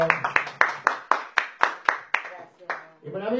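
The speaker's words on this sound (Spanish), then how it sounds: "Fuerte el aplauso." An audience claps for a poet in a steady, even rhythm of about a dozen sharp claps, close and distinct rather than a dense crowd roar, ending in a short pause before a voice.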